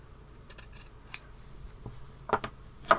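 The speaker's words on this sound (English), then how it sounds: "What I'm going to do is cut this in half" Scissors cutting a piece of felt in half for a hat craft: a few soft snips and rustles, then a cluster of sharper close-up cuts near the end, with no talking.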